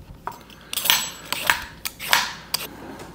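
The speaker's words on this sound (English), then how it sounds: "let's go ahead and peel that carrot" A carrot is peeled with a metal peeler in a kitchen while Korean BBQ chicken tacos are being made: a series of short, quiet scraping strokes in an irregular rhythm, close by, with no talk.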